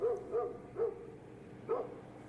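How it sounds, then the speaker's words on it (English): A dog barks four times in short, mid-pitched woofs, three close together and one after a pause, moderately loud with no talking. "That's a dog barking,"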